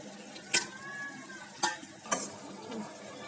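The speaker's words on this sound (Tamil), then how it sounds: "இதை கலந்து விட்டுக்கலாம் நல்லா." Spices being stirred into chicken curry in a pan, with three distinct scraping strokes against the pan over a faint, steady low background, no voices.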